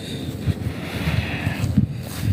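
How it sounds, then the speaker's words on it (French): Steady wind buffeting the microphone while someone walks across an old garrison courtyard, a continuous rough low rumble with gusty swells and no voices. "vous allez avoir un peu de vent, parce que je traverse la cour."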